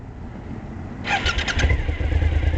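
A motorcycle engine cranks and catches, then settles into a steady close idle rumble, loud and alone without talk.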